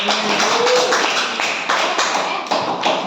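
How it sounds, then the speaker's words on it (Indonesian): Classroom applause for a student group, a dense wash of clapping hands filling the whole stretch at steady, fairly loud level with a brief higher vocal tone early on. "tepuk tangan dulu dong untuk kelompok"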